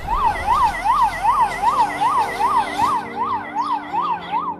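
A loud, rapidly wailing ambulance siren cycles up and down in quick, regular sweeps over low traffic rumble, close by and continuous.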